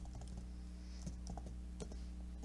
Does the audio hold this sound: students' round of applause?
no